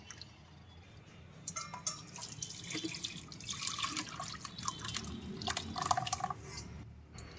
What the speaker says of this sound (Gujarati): આપણે આ પાણીને ગાળી નાખશું